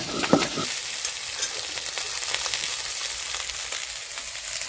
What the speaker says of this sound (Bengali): কপি আর আলু ভাজা হয়ে গেছে।